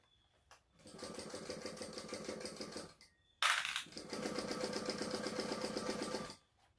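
A sewing machine stitches in two quick, rhythmic runs, pausing briefly in between, close and clear with no talking.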